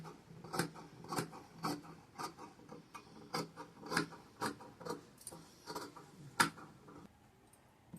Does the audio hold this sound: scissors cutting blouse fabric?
yes